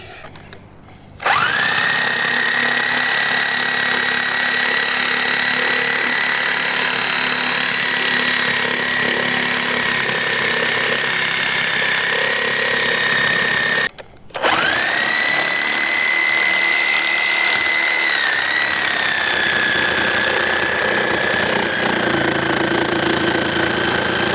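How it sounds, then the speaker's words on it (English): A Sawzall reciprocating saw cuts through a railroad tie, running loud and steady at close range with a high whining buzz, pausing briefly near the middle before resuming for another long stretch. "I've got my Sawzall back there, and I'm going to finish it off with that."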